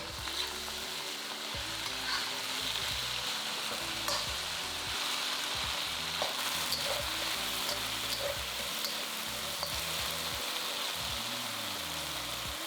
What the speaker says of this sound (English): Now we're going to fry that beef until it's lovely and crispy.